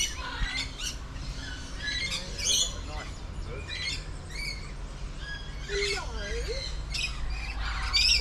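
Laughing kookaburra, a kingfisher, calling in a Barbados nature park: a run of loud, excited squawking and chattering calls rising and falling, with other bird chirps around and a voice talking at points.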